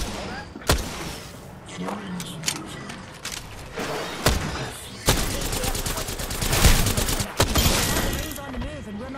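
Gunfire in a battle royale video game: a rapid burst of shots followed by several loud, sharp single reports and further volleys scattered through the clip, with some speech in the background.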